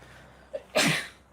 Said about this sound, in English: Still gotta sneeze.